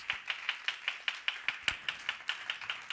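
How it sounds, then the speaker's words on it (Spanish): A church congregation claps in a steady, regular rhythm, about five claps per second, sharp and moderately distant, with no talking over it. "Dale palmas con ganas, dale palmas"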